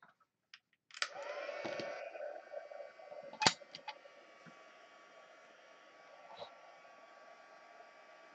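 A heat tool blows hot air over embossing powder on a card to set it, a steady whooshing drone starting after a second and running for a few seconds, with a sharp click partway through, then fading to a quieter hum.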